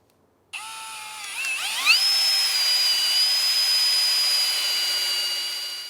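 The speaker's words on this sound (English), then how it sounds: "we're going to drill pilot holes in that bottom rail to secure it to the ground" A power drill spins up and whines at a high steady pitch as it bores pilot holes into a wooden deck skirting bottom rail, running continuously for several seconds.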